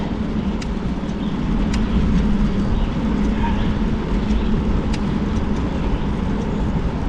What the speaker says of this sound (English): One car behind.